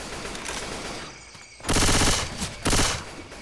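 Video game gunfire comes as loud bursts of rapid automatic fire, with a long burst followed by a short pause and then another burst, all close and dense with no talking.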